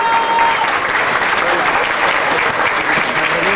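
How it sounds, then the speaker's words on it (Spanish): Loud, sustained applause from an audience at a public ceremony in Chiautla where teachers are receiving materials, with dense clapping running steadily throughout. "Vamos regalándoles un fuerte aplauso."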